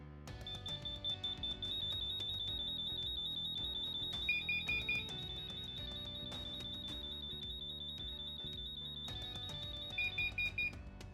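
Several interlinked LINKD smoke alarms shrill together during a test, a loud steady high-pitched tone running almost unbroken for about ten seconds, with bursts of rapid beeping near the middle and again toward the end.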